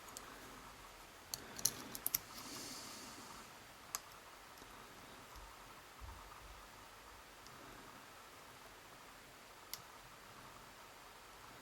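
A pick clicking the pins of a brass 124 Den challenge lock, faint sparse clicks and taps, a small cluster early and a few isolated ones later, over a quiet hiss with no talking.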